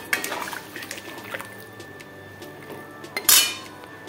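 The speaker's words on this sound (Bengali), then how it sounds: "আর একটু সামান্য জল দিয়ে দিচ্ছি।" Water is poured into a cooking pot of sautéed mango and fish curry, producing a short splashing gush near the end, preceded by clinks of utensils against the pot, close and without talking.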